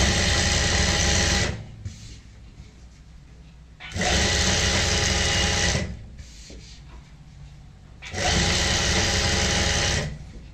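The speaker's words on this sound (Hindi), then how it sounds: "तो इसके बाद हम यहाँ पे भी सिलाई लगा लेंगे" A sewing machine stitching lace onto a salwar, running in three steady whirring bursts of about two seconds each, separated by short pauses with faint handling sounds, close and loud.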